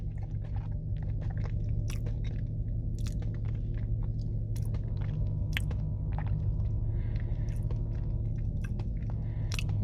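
Close chewing and biting of a Crumbl cookie cake, with soft wet squishes and scattered sharp bites over a low steady hum, no talking.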